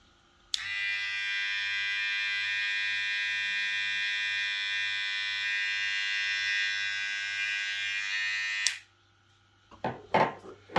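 A VGR V007 electric hair trimmer buzzes steadily and close for about eight seconds with a constant whining hum, then switches off, followed by a few brief handling knocks.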